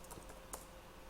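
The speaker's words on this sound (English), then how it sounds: "you'll be just typing this command" Quiet key clicks from a computer keyboard while a command is entered into a Linux terminal, a few soft taps with one slightly sharper click, close and low over faint background hiss.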